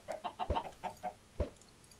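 A chicken in the video game Minecraft clucks in a quick series of short, soft calls, about eight in two seconds, with no other sounds.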